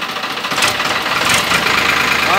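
A Farmtrac 60 HP tractor engine is revved, a loud, close, rough diesel drone with a pulsing knock that swells briefly, with no talk over it.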